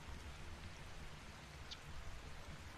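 Steady rain in the video game Ark on a PvP map, a soft, even hiss of falling drops with low rumble underneath, constant and fairly quiet throughout with no talking.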